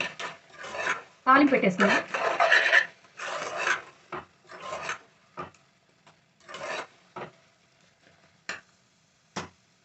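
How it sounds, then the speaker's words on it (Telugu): Raw prawns and gongura (sorrel) leaves being mixed by hand in a bowl with chilli powder and salt give wet rubbing and scraping strokes in uneven bursts that thin out, while a voice speaks briefly. "ఇప్పుడు ఇది బాగా కలిపేసి"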